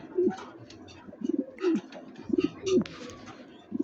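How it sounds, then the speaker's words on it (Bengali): A Mondian pigeon coos close by in repeated short throaty bursts, roughly five low rolling calls in a loose rhythm. Light chirping and clatter come from other birds in the background. "মন্ডিয়ান কবুতর সবচেয়ে বেশি ডাকে"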